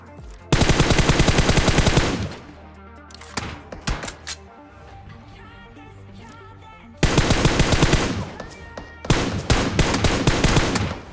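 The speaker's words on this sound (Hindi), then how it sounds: "तो यहाँ पर मैं M4 की 15 बुलेट में इनके 2 बंदे नॉकडाउन कर देता हूँ फटाफट से" Rapid bursts of M4 rifle fire in the mobile battle-royale game PUBG Mobile, loud and close, with two long sustained volleys and a few short taps between them, no talk over the shots.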